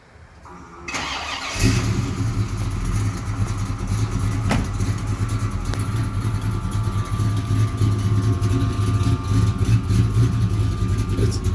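A 1987 Chevy S10 shop truck with a 350 V8 cranks briefly and fires, then settles into a loud, steady, slightly low idle with a deep rumble close by.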